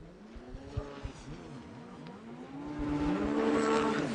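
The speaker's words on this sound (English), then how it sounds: "that horsepower of that 1800cc turbo Yamaha powered Lezcano into the first turn in a very impressive fashion" An 1800cc turbocharged Yamaha racing watercraft charges into the first turn at a pro watercross race. Its engine whines and swoops in rising and falling pitch, growing louder and more sustained toward the end.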